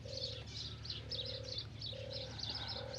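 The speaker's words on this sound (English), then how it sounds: "Hear the cooing of the dove." A dove cooing softly in a repeated rhythmic pattern, faint and somewhat distant, with chirping birds and a low steady hum in the background.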